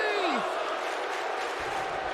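Wrestling arena crowd in WWE 2K19 cheering loudly after a DDT, a steady roar of many voices, opening with a falling whistle-like sound.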